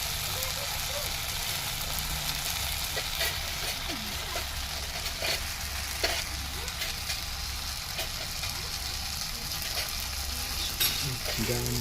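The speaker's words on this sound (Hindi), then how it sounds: "थोड़ी सी मैगी मसाला को हम लोग थोड़े फ्राई करेंगे" Maggi masala sizzles and fries in a hot pan at home, a steady loud crackle running the whole time with occasional stirring scrapes and a low background hum.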